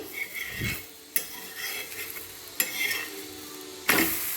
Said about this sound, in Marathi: दोन मिनिट वापरल्यानंतर आपल्याला ते लगेच परतून घ्यायचं आहे